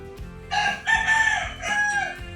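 A rooster crows once loudly and close by, a long strained call lasting a couple of seconds.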